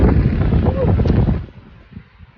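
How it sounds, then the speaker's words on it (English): Strong gusts buffet the microphone on a winter hiking trail near Allstone Lake, Nordegg, a loud roaring blast that drops off sharply partway through to leave quieter, softer buffeting. "still so windy."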